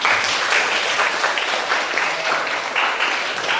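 A class of students claps together in steady, dense applause, continuous and fairly close, with no voices standing out.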